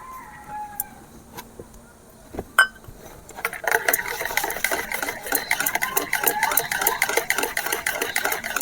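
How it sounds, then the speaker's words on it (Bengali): Oil, white vegetable oil, being whisked in a bowl for a nolen gur (date palm jaggery) cake batter; after a few quiet clinks, a steady rapid scraping and tapping of the whisk sets in and runs continuously at close range. "সাদা তেল দিয়ে এভাবে ফেটে নিচ্ছি।"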